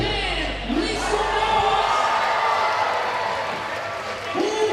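Crowd inside a basketball arena at a FIBA 3x3 Asia Cup game cheering for Team Japan, a dense sustained roar of voices and whoops that swells and holds, with a public address voice over it.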